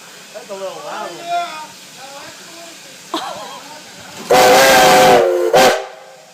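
A new steam whistle on a Virginia & Truckee Railroad engine gives two loud blasts close by, one long and one short, after a stretch of talking and a brief earlier toot.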